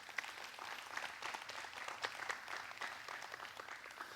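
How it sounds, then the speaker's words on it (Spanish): Congregation applauding during a Spanish-language church service, a dense, steady patter of clapping from many hands filling the room for several seconds, with no speech over it. "Denle un fuerte aplauso al Señor."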